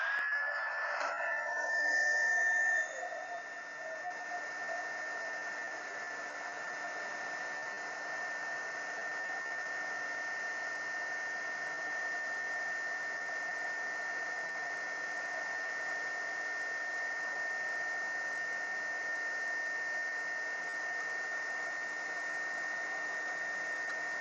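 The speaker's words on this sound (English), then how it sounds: "I'm going to just use a regular high temperature heat gun to get this thing heated up appropriately." A high temperature heat gun blows steadily to heat a chip on a Commodore 64 circuit board during a repair, a constant close-up whooshing hum with a faint whine that holds unchanged after a brief louder start.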